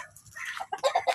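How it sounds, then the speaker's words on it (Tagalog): A chicken gives a quick series of short clucks, close and fairly loud, with no talking. "Ayan yung manok ko."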